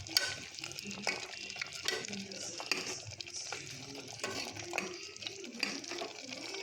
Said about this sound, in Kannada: ಈ ಟೈಮಲ್ಲಿ ರುಬ್ಬಿರ್ತಕ್ಕಂಥ ಮಸಾಲೆ ಹಾಕ್ಕೊತಾ ಇದ್ದೀನಿ.